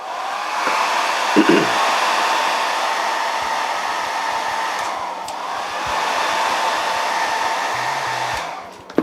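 A hair dryer blows continuously on wet paint over a burn hole repair, a loud, steady whooshing hum close by that runs without pause, with a brief click near the end.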